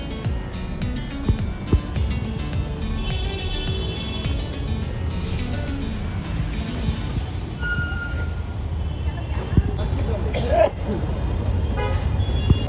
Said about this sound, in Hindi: अब देखो भाई साहब ट्रैफिक कितना है